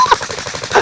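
A quick burst of rapid automatic gunfire in a video game, loud and close, with several shots fired in under a second.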